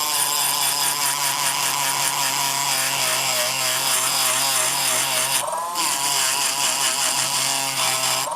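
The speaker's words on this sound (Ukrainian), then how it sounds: "спробуємо наждачку ось цю і по металу" A high-pitched Worcraft CEMG-S20Li cordless rotary tool whines continuously as it sands metal, dipping briefly under load before spinning back up; no talking.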